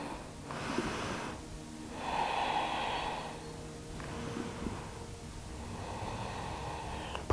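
Two deep, slow breaths drawn during a seated shoulder-mobility stretch, each a soft airy inhale and exhale, close and fairly quiet with a low background hum.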